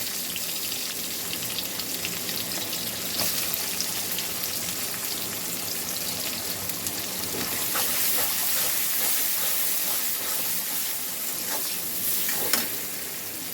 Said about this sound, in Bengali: আমি রসুনটা বেশি ভাজবো না, হালকা একটু ভাজলাম। এবার দিয়ে দিলাম আমি পেঁয়াজ।